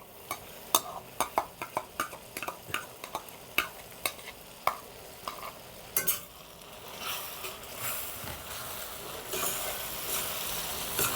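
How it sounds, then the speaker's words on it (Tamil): Onion and tomato sautéing with ginger, garlic and green chili paste for a village-style chicken gravy: a quick run of a dozen sharp spatula scrapes and clinks against the pan, then a steady soft sizzle. "அஞ்சு நிமிஷம் நல்லா வதக்கிக்கிறலாம்"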